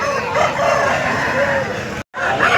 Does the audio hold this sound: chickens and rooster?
yes